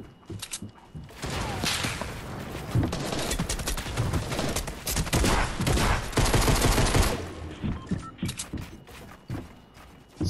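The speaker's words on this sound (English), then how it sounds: "Someone's shooting us down, bro." Fortnite gunfire rattles in dense, rapid bursts of close shots for several seconds. Mechanical clicks come before and after, and the shooting tapers off near the end.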